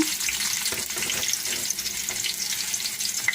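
Capsicum, onion and tomato fry together in a pan for capsicum thokku with a dense, steady hiss of sizzling, close and fairly loud, and faint stirring taps underneath.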